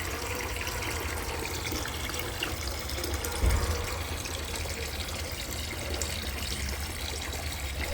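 Steady trickling water runs through a Parkside water meter on a tap, a continuous even flow with one brief louder splash partway through.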